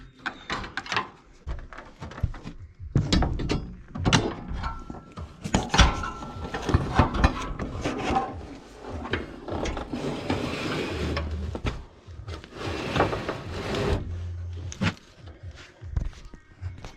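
Screws are driven into the coil panel of a Carrier FX4DNF025 furnace during a coil replacement, heard as repeated clicking, ratcheting and mechanical bursts with knocks and handling noise over about seventeen seconds.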